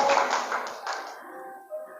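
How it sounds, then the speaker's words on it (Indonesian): Seminar audience of women clapping, a short burst of claps that quickly thins and fades, leaving a few scattered taps and faint tones at the end. "Tepuk tangan buat Anda semua hari ini."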